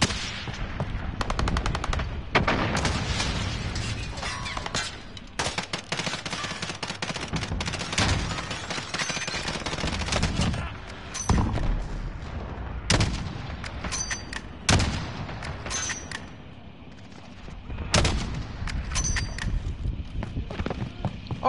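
Rapid bursts of gunfire in an online shooter game crackle in repeated volleys, loud sharp cracks and machine-gun rattles separated by brief pauses, with no talk over them.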